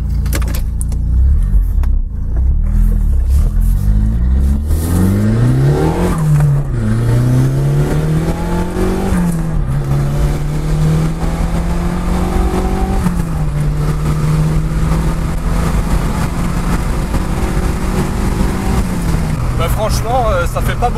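A car engine with its exhaust valves opened, heard from inside the cabin. It revs and accelerates in loud, rising surges, settles into a steady drone, then climbs again, with a gravelly exhaust rumble throughout.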